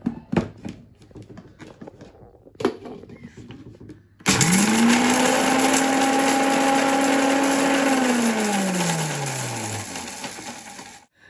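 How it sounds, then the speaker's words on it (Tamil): Electric blender grinding fried garlic, onion, roasted gram and coconut, starting after a few taps and clatters, whirring loudly and close for several seconds, then its pitch sinks as it winds down. "பொரிச்ச உள்ளி, வெங்காயம், பொட்டுக்கடலை, அடுத்தது இந்த தேங்காய்ப்பூ, இது எல்லாத்தையும் சேர்த்து அடிக்க போகிறோம்."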